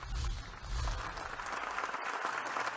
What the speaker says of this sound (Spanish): Aplausos para uno de los veteranos de la política estadounidense.